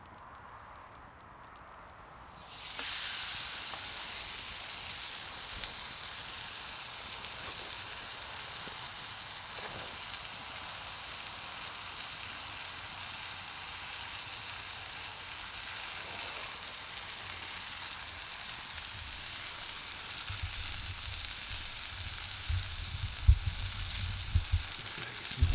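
Potatoes with cheese and peppered steak sizzling steadily in a pan during a solo overnight stay in a winter shelter, a continuous close frying hiss that starts abruptly and holds for the rest of the clip, with a low rumble near the end.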